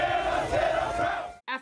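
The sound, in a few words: students chanting for their Rams team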